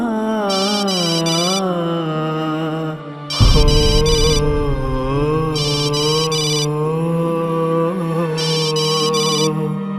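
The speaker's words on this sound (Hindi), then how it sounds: "फोन उठा नहीं रहा, पता नहीं अपना मोबाइल कहीं भूल गया है क्या।" A mobile phone ringtone plays on and on without being answered, a loud melodic tune repeating in regular phrases with bright chiming bursts, close and with no voices.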